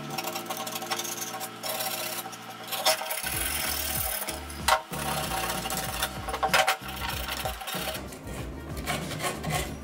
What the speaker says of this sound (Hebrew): לכן חשוב לשייף את הגריפ טייפ.